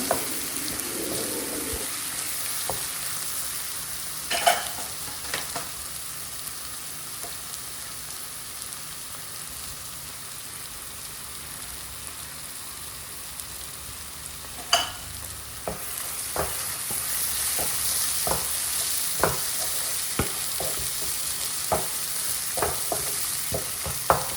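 Chicken coated in three spice powders is stirred in a frying pan, giving a soft continuous sizzle broken by sharp periodic scrapes and taps of the spoon, with a faint trickle of water in the background.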